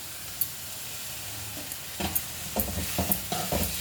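Onion, ginger and garlic sauté in a pan with a steady sizzle, joined midway by a run of spoon-stirring scrapes and clatters that grow louder and busier toward the end.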